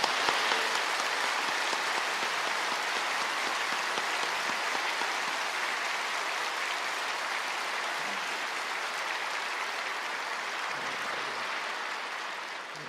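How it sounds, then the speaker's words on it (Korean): A church congregation at an early-morning prayer service at Yoido Full Gospel Church applauds in a dense, sustained wash that stays level throughout and tapers slightly at the end. "뜨거운 격려 박수 한번 보내겠습니다."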